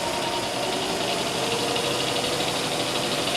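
A Southwestern Industries SWI Trak DPM 3-axis CNC bed mill's spindle runs at low speed in low range, a steady dense mechanical hum and rattle, close and constant throughout, with no talking.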